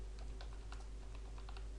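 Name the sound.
typing a password on a computer keyboard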